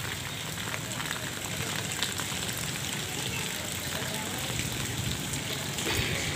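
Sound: rain falling on a flooded street

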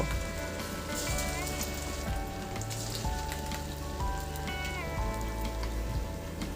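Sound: flattened rice frying in hot oil

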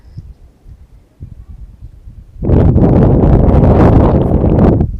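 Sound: wind

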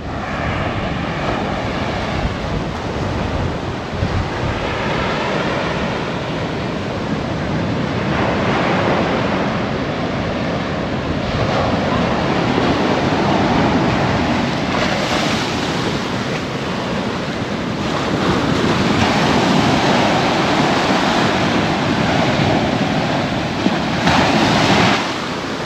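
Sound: big ocean waves breaking on a beach

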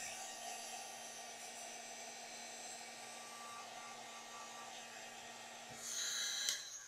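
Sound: heat gun drying paint

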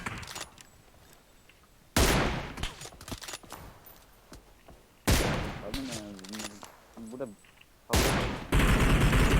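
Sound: gunfire in the video game PUBG Mobile

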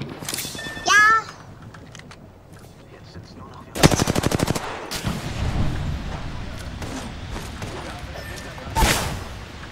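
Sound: Kraber sniper rifle gunfire in the video game Apex Legends

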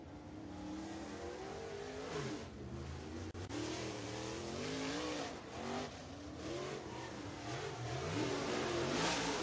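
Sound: race car on track during qualifying

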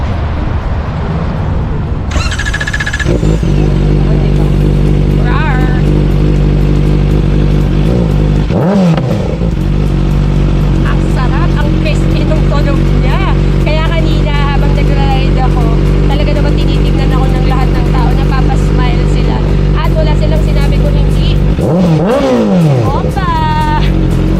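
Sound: Kawasaki ZX4RR motorcycle engine soundcheck, revving

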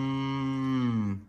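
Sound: cow mooing

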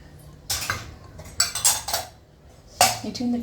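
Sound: mixing puri dough with oil

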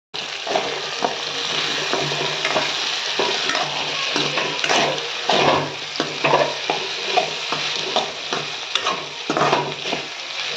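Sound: rice with turmeric powder frying and being stirred in pan

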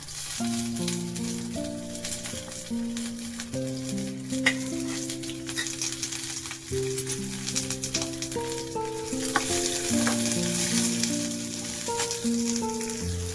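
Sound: onion being roasted in a pan

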